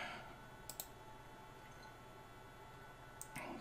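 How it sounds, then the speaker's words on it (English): Two pairs of crisp computer mouse clicks, one early and one near the end, sound close and quiet against faint room noise, with no speech. "you can click apply as an agent"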